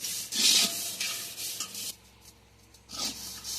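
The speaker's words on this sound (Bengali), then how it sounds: "এই যে কত থালা বাসন হয়েছে, এগুলো এখন সব মাজছে আমার বড় বোন" Dirty plates and pots left from cooking biryani are scrubbed, producing close, rhythmic rasping and rubbing strokes that pause briefly before starting again.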